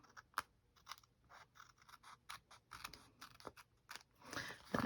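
Scissors snip and trim the edge of a paper page for a Victorian Christmas journal spread, several quiet, sharp cuts in an uneven rhythm, heard close.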